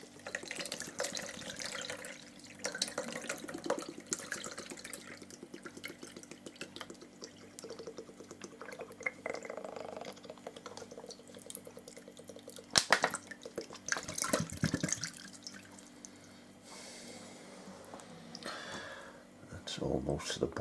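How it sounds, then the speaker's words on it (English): Fizzy homemade meadowsweet lemonade poured through a sieve, a steady liquid trickle and dripping running throughout with brief splashy bursts, close by with quiet talk over it. "So I'm going to pour that in there like that."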